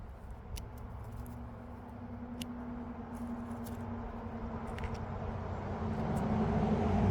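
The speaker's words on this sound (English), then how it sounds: "I'm going to have to put up with a little bit of traffic noise." Faint road traffic hums outdoors in the distance, a low steady wash that slowly swells louder toward the end, with a few light ticks and clicks nearby and no talking.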